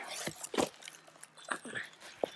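A puppy in a garden gives a few short whimpers and yips, scattered small vocal bursts close by against a quiet outdoor background.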